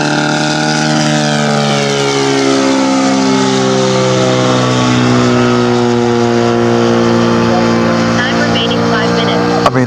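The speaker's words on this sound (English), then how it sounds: "It's a DL222 4-cylinder. It's a boxer motor." A DL222 4-cylinder boxer engine drives a 32-inch prop on an RC F4U Corsair scale model plane, a loud, steady low-revving drone with rich harmonic buzz holding close throughout.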